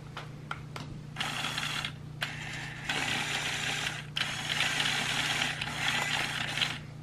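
Small electric motors on a remote-controlled robot whir in short, stop-start bursts with brief gaps between them, sounding close and fairly quiet over a low steady hum, with no talking.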